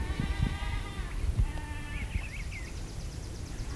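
A Spanish goat bleats in a few wavering cries, partly distant, as if stuck somewhere, over a steady outdoor rumble with light shuffling thumps.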